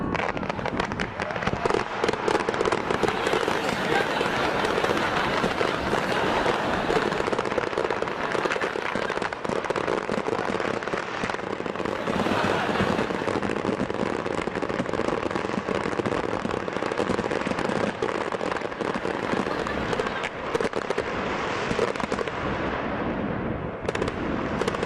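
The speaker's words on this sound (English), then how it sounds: "all the fireworks went off in under a minute" Large Scottish fireworks display all detonating at once after a technical fault, a dense, continuous barrage of loud crackling bangs and booms with no pauses, and crowd voices mixed in.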